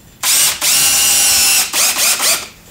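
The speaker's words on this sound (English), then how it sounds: "tighten that up together, and toenail screw down into here" A power drill drives screws to toenail wooden stair stringer components together, a loud whirring burst followed by a sustained drive, then two shorter ratcheting spurts as the screw seats, close up with no talking.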